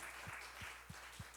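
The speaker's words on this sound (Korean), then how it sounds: "귀한 특송 해주신 한소연 청년께도 감사의 박수하도록 하겠습니다" Steady applause from a church congregation during a Sunday youth service, a continuous wash of clapping at moderate volume with a few louder thumps, no voices standing out.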